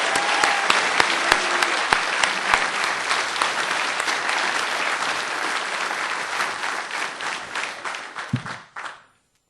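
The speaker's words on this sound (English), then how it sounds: "a big round of applause for all of these graduating students" An audience at a 2013 NC State mathematics graduation ceremony gives the graduating students a big round of applause: loud, sustained clapping that gradually thins and ends abruptly near the close.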